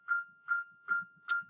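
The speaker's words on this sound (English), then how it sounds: "there's the warning bell." A school warning bell sounding from a classroom, four evenly spaced electronic tones ringing at one steady pitch, clear and moderately loud with quiet gaps between.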